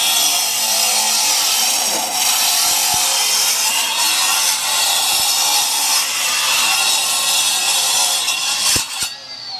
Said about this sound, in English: I'm going to do something you shouldn't do with a concrete saw. I'm going to force it, right?